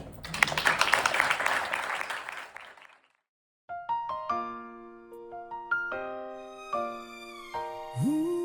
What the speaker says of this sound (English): give us a nice round of applause for Dr. Alveda King